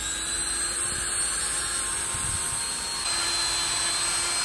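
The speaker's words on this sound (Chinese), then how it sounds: "雕琢基本完成，把它打磨一下。" A power tool sands the carved deadwood trunk of a pomegranate bonsai, giving a steady, loud, continuous whine and hiss with no pauses.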